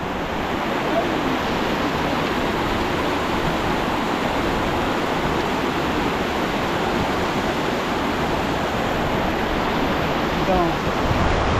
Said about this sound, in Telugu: అలా హిమాలయాల నుంచి చల్లగా నీళ్ళు ఇలా దారిలాగా పారి